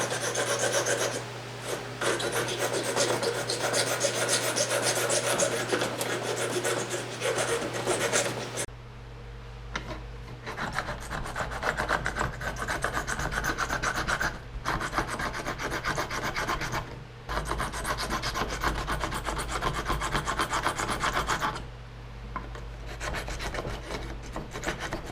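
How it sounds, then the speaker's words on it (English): A metal file rasps back and forth over fret ends on an electric guitar neck, giving close, steady scraping strokes with short pauses between passes. "we've pretty much finished filing down those ends of those frets."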